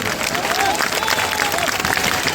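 A crowd at a political rally in Bihar claps and cheers, a dense, loud wash of applause that holds steady from start to finish, with some voices mixed in.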